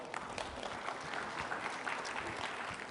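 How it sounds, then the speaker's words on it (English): Applause from a conference audience at a business innovation event, a dense patter of many hands clapping at moderate distance, steady and fairly quiet for a few seconds. "Let's give a round of applause to the gentleman there."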